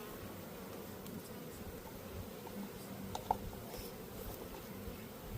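Honeybees buzzing as a steady low drone through an outdoor hive inspection at a beekeeping field day, continuous and moderately faint, with a brief soft tap partway through and no voices.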